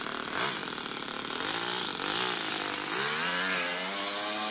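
A small single-cylinder four-stroke overhead-cam RC car engine runs loud and steady, its buzzing pitch rising and falling with throttle changes, close by and continuous throughout.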